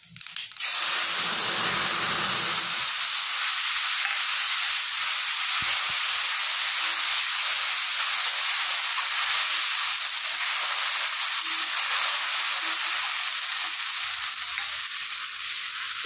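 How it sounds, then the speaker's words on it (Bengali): Whole cumin seeds sizzle in leftover hot oil from frying potatoes, which had earlier been used to fry fish, producing a loud, continuous hiss that holds steady for the whole stretch with no talking. "আলু ভাজার ওই তেলের মধ্যে দিয়ে দিচ্ছি গোটা জিরে"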